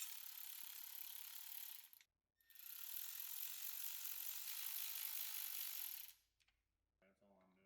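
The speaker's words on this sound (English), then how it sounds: "Attach the 2 side braces and thread the bolts in, but don't tighten them all the way." A ratchet clicks rapidly while bolts are threaded into a sport differential brace on an Audi B8, C7 or D4, two quick bursts of fine metallic ratcheting, close and clear, a brief pause between them.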